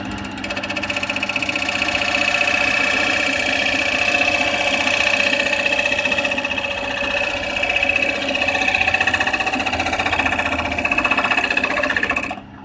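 A wood lathe gouge cuts a spinning workpiece, giving a steady, continuous scraping whir with a faint mechanical hum. It stays loud and even for the whole stretch, with only slight dips in level and no talk.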